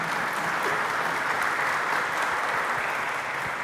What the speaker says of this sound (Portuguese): Uma salva de palmas para Helena